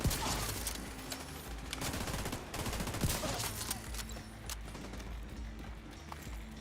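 Rapid automatic gunfire in The Division 2, a boss fight against an enemy shooting around corners, with dense bursts and scattered single shots rattling close and loud throughout, mixed with game music and effects.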